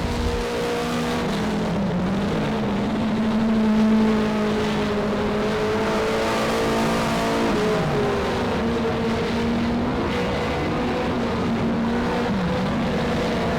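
Race car lapping Monarch Motor Speedway in Geronimo, Oklahoma, at a 2019 race, engine droning steadily with rising and falling pitch as it circles, loud and continuous with no talk.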